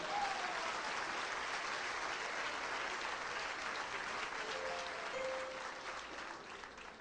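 A church congregation breaks into dense, even applause that fills the room at a moderate level, thinning slightly toward the end, with no voices over it.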